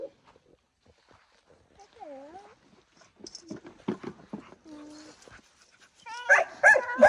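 A dog whimpering with rising and falling whines, then letting out a couple of loud barks at the end, with people talking in between in a busy home setting.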